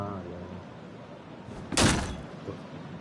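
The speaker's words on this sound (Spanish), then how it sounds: "pero ¿por qué este güey está rompiendo la puerta?" A door being broken down in the video game Until Dawn: one loud, sharp crash bursting out midway, with low rumbling around it and a voice talking faintly before.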